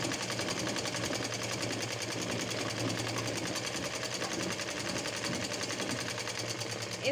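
A sewing machine stitches the back neck of a designer blouse for sarees and lehengas, running in a close, steady, unbroken whir for the whole stretch with no talking.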